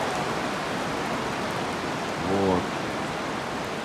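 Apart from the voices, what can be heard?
rain falling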